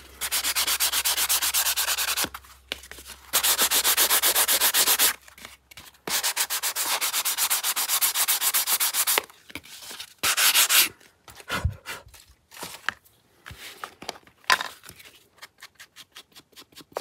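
Sandpaper rubs across a journal page surface in long steady strokes broken by short pauses, then quicker scattered scrubbing toward the end, close and fairly quiet with no talk.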